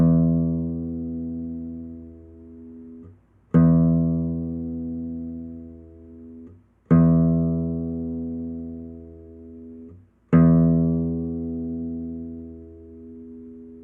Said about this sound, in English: the rest stroke technique creates a more concentrated sound than the free stroke